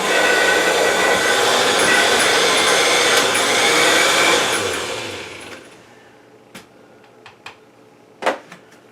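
A blender whirs loudly on its stir setting while processing tomatoes for seasoned sauce, a steady motor drone that winds down after about five seconds, followed by a few clinking taps and knocks close by.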